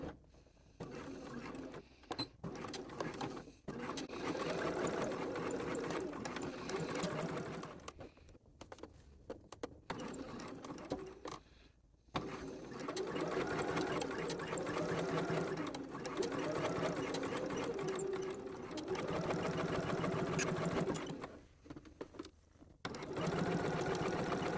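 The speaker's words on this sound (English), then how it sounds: "put my needle in to start, and then start stitching around nice and slowly" A home sewing machine stitches around a shirt sleeve seam in steady, close whirring runs. Several short stops break up the runs, and each restart is slow.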